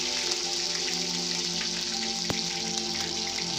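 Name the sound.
garlic paste frying in a wok with whole spices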